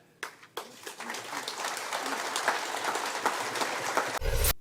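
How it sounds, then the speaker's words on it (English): Applause following Trudeau's speech, a modest round of clapping from an audience that starts in scattered bursts, settles into steady mid-level clapping and then breaks off abruptly. "That's probably not the level of applause that Trudeau was hoping for there."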